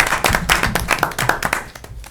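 A small group claps briskly and loudly up close, rapid hand claps forming short applause that tapers off at the end, at a Board of Education meeting.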